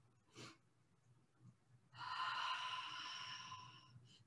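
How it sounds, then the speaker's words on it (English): A long, audible exhale of a three-part yoga breath at a chair yoga session, a soft breathy release lasting about two seconds, preceded by a short faint breath and heard alone. "So a three-part breath goes."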